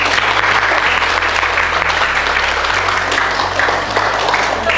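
Loud, sustained applause from a school gathering honoring the teachers who guided the students, dense clapping throughout with a low steady hum beneath.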